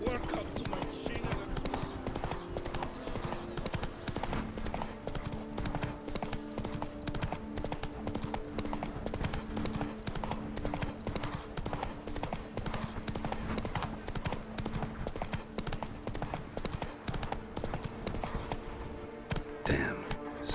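Roach, the horse in The Witcher 3, trots in a quick, steady clip-clop of hoofbeats that runs the whole time under a bed of game ambience, with someone speaking briefly over it.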